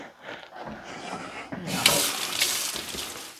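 Peeled potatoes rinsed under a running kitchen tap, a steady close hiss of water that swells louder halfway through as the stream hits the potatoes and sink.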